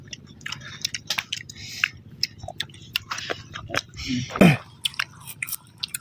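Close, crunchy bites and wet chewing of raw hog plum coated in chili salt, irregular crisp snaps and squishy mouth sounds with one louder crunch near the end.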